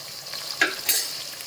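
Cloves, green cardamom, star anise and cinnamon with onion sauté in hot oil for prawn rice, giving a soft sizzle with two short stirring scrapes.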